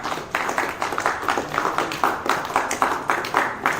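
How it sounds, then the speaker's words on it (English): Small audience in a classroom claps briefly after a mathematics lesson on parabolas, a quick series of close, uneven hand claps of moderate loudness with no talking. "Okay, clap."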